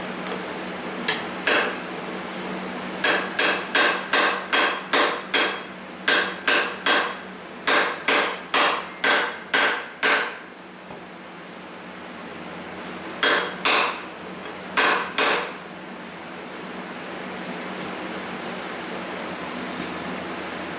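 A hammer strikes a chisel wedged into a forklift engine during a teardown, ringing metallic blows coming in quick clusters of about a dozen, then a pause and a few more, loud and close without talk.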